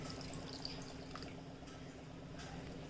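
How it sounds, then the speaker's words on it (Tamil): Water pours steadily into a metal pressure cooker for a few seconds while making mutton biryani, a soft continuous splashing with faint clinks, no voices over it. "ஒரு செம்பு அளவுக்கு தண்ணியை நான் ஆட் பண்ணிக்கிறேன்."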